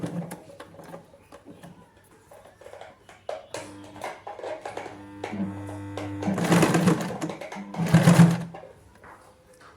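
A sewing machine stitching a zip onto trousers runs in short bursts, its motor humming up and rattling louder near the end, with quieter handling noises between runs and no speech.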